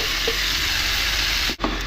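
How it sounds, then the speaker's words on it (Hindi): Chicken fries in a pan with onion, garlic and ginger, making a loud, close, continuous hiss with a brief stir or clatter near the end. "तो अब हम इसमें डाल देंगे चिकन।"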